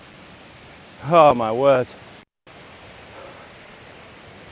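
A big waterfall swollen with water roars as a steady, broad rush of noise throughout, with a man exclaiming briefly over it and then a short dropout before the roar resumes.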